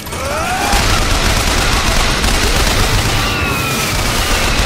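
Gunfire in the shooter game Bioshock Infinite: a dense, loud, continuous fusillade of rapid shots and booms filling the whole moment, with no talk over it.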